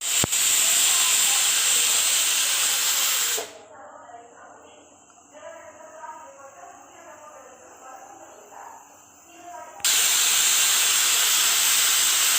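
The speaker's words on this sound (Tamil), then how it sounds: "இப்போ ரெண்டு விசில் வந்துடுச்சு" A pressure cooker of mutton biryani whistles loudly in a sustained high hiss, falls away to a quieter stretch with faint chirping kitchen sounds, then resumes its steady shrill steam whistle.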